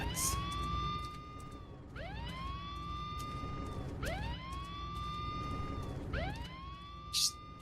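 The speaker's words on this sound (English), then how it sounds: "I hope you enjoy police sirens, because we're going to be hearing it a lot" A loud video game police siren from Silent Hill wails continuously, its pitch sweeping up and holding in repeated cycles about every two seconds, with steady rumbling noise underneath.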